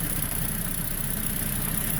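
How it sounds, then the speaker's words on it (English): A Saab 9-3 engine idles steadily in a close, continuous drone, with a high-pitched whine from a power steering pump running throughout and no voices. "Okay, the car is running now"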